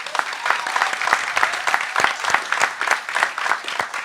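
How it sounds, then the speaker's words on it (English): Audience applause at a conversation event led by Jamel Shabazz, steady dense clapping filling the room without talk, fairly loud and even throughout. "So can we give him a round of applause?"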